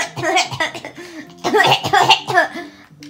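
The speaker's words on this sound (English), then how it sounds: "Why'd you just cough like that?" Several rough coughs and throat-clearing bursts come in quick clusters, close and fairly loud, with brief pauses between them.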